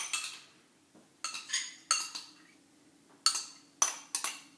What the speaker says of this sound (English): I'm going to put it right in there, and I'm just going to give everything a quick stir and mix everything up